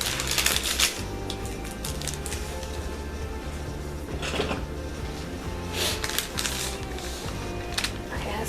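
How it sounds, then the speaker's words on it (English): A knife trims the edges of pumpkin pie crust against a pie plate, producing a run of light, irregular clicks and taps close by over a busy kitchen background. "Let's cut off the ends."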